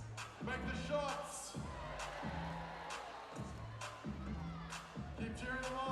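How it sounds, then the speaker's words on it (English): Basketball arena crowd at a Wellington Saints vs Taranaki Airs game, a broad sustained roar of cheering and shouting with rhythmic thumping music beats underneath, steady and loud throughout. "Keep cheering them on, ladies and gentlemen"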